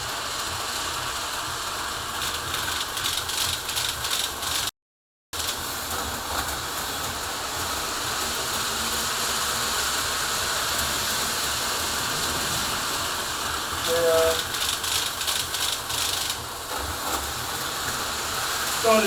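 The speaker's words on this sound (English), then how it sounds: "Train going on." A toy train rolls steadily with a continuous mechanical hiss and fast rattling clicks for nearly twenty seconds. The sound is nearby and briefly cuts out once.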